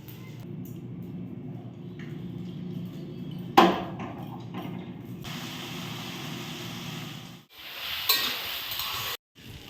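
Oil heats in a wok before boiled potatoes and eggs are fried, giving a low, steady hiss that turns into a brighter sizzle partway through, with a sharp clank of the pan.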